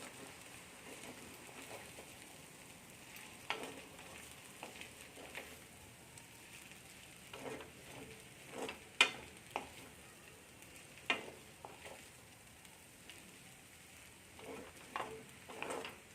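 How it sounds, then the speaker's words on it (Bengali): Fried potatoes being stirred into chowmein in a frying pan at home, a soft continuous sizzle broken by irregular scraping and clinking strokes of the spatula, fairly quiet and close. "আলু ভাজাটা মিক্স করে নেব চাউমিনের মধ্যে।"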